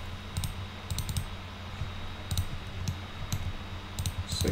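Computer keyboard keys pressed during 3D modeling work, with scattered single and double clicks of varying loudness over a steady low hum.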